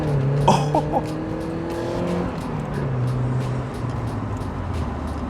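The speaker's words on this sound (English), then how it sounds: "that cobalt exhaust sounds beautiful, really, really nice." Eunos S-Special II sports car with a cobalt exhaust running on the road, a steady close engine drone with shifting tones as it pulls along, one brief sharp sound early on.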